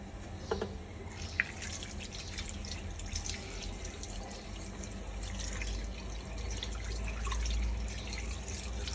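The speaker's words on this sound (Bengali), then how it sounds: "এভাবে ধুয়ে মুছে আপনারা ক্লিন করে রাখতে পারবেন।" Running tap water splashes and drips over a decoupaged jug being washed in a sink, a continuous moderate wash with scattered drips and light handling clatter.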